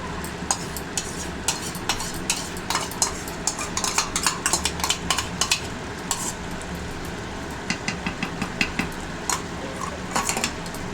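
Chicken curry masala with yogurt being stirred in a pan, repeated scraping and clinking strokes of a utensil over a low sizzle, close and continuous throughout.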